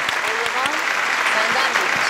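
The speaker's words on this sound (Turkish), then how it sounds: "Orkestraya kocaman bir alkış!" An audience applauds an orchestra on a televised Turkish music show, a dense, steady wash of many hands clapping close and loud throughout, with a few voices faintly mixed in.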